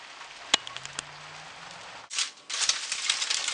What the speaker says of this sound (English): it's a total downpour